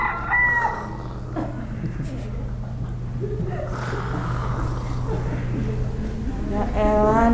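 A rooster crows in the morning near a home, a couple of clear calls standing out over a steady low hum and faint background voices.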